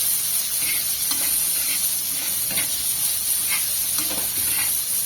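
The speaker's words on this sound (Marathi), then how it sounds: "तर कांद्याचा कच्चापणा जाऊपर्यंत हा कांदा आपल्याला चांगला परतून घ्यायचा आहे आणि गॅसची फ्लेम मी मोठीच ठेवणार आहे" Onion sautéing in oil on a high gas flame for street-style anda tawa masala, a loud dense hiss of frying with intermittent stirring scrapes, close and continuous, no talk.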